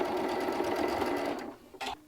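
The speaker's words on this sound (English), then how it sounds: "when I'm sewing it on, I'm going to sew along that crumb fabric piece" A sewing machine stitches a crumb fabric piece onto a quilt block, a steady close mechanical whir that runs then stops, with a short final burst of stitching.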